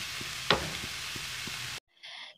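Chicken and egg stir-fried into fried rice in a hot pan, a steady sizzle with a sharp utensil scrape and light knocks, cutting off abruptly before a brief quieter stretch.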